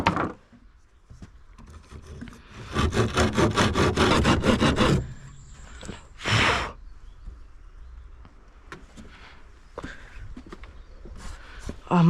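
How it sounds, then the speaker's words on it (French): A small hand saw cuts through a wooden cladding board with a quick run of rasping back-and-forth strokes lasting a couple of seconds, close up, followed by a brief scrape and quiet handling noises. "Maintenant je vais prendre la petite scie"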